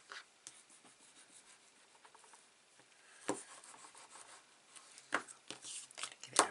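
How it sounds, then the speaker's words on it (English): A stamped paper card being rubbed by hand, soft continuous scratchy friction with a few sharper brushing strokes, quiet and close with no talk. "Give it a rub from the back as well."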